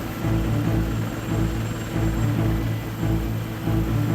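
Steady roaring engine drone with a throbbing rotor pulse, loud and continuous throughout, from a Navy helicopter overhead, with no voices.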